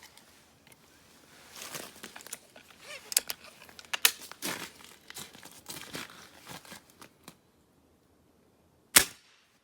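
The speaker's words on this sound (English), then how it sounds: "The next pellet I'll be shooting is Hades Diablo" A Umarex Synergis Elite .177 air rifle fires a Hades Diablo 10.34 grain pellet: one sharp, close crack near the end, after a stretch of rustling, crinkling handling noise and then a brief quiet.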